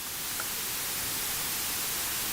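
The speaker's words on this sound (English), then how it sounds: "More pink noise." Steady, unbroken pink noise from a synthesizer oscillator, a soft broadband hiss that holds at one level throughout with nothing else heard.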